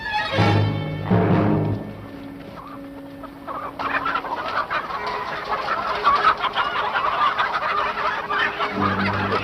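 Chickens clucking near a farm barn in a 1964 wartime drama, starting with loud close clucks and a squawk, then fading into a steady bed of softer background clucking and rustle.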